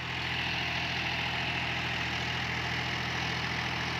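A John Deere 5105 4WD tractor engine runs steadily while driving a Maschio Virat Pro rotavator, giving a constant, loud, low droning rumble with no breaks and no voices.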